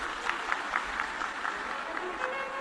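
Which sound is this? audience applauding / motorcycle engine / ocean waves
audience applauding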